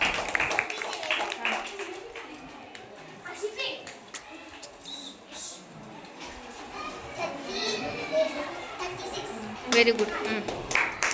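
Schoolchildren clapping in a classroom amid lively children's chatter, with uneven bursts of hand claps, a stronger burst near the end, and an adult briefly speaking.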